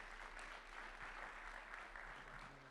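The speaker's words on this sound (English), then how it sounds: "Everyone, let's give each other a hand of applause." Audience applause at a Maryland summit for male students of color, a steady wash of clapping hands lasting the whole moment at moderate, fairly distant volume, with no voices standing out.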